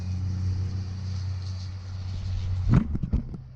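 A modified 6.7 diesel pickup truck engine with an aftermarket exhaust idles with a steady low rumble, then gives a brief louder rev near the end.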